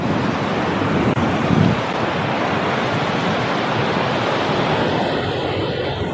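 Ocean surf rolling onto a beach shore, a continuous loud wash of breaking waves mixed with wind noise on the microphone, steady throughout with a slightly stronger surge early on, no voices.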